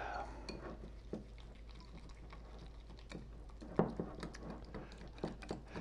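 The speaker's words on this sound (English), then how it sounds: "And then we're going to mix" A spoon stirs horseradish sauce ingredients with dried chives and pepper in a bowl, giving soft, rhythmic scraping and a few light taps against the side, close and quiet, with no talking.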